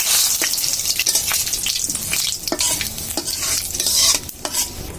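Cumin seeds, bay leaf and dried chili crackle and sizzle in hot oil in a wok, a steady frying hiss broken by sharp spattering pops and stirring scrapes, close and fairly loud with no talking.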